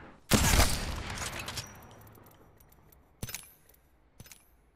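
Gunfire in Apex Legends: a loud, dense burst of shots near the start that tails off, followed by two short, sharp single reports later on.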